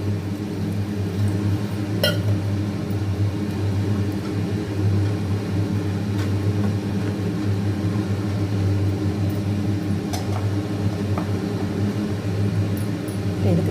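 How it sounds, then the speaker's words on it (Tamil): A mixer grinder grinds chana masala ingredients with a steady, loud motor drone and a humming buzz that stays even throughout, with no talking. "மீதி எடுத்து வச்சோம்ல அதை மிக்சியில் போட்டு லேசாக அரைச்சிக்கலாம்"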